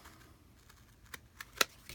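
Scissors snipping paper while trimming pieces for a handmade mini folio album, a few quiet separate cuts with one sharper snip near the end, close by and without talk.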